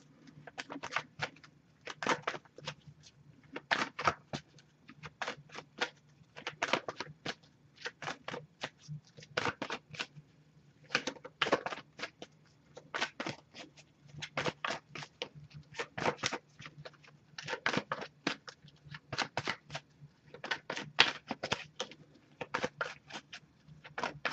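A deck of tarot cards shuffled in repeated quick bursts, crisp riffling flutters separated by brief pauses, close and fairly quiet against a low steady hum.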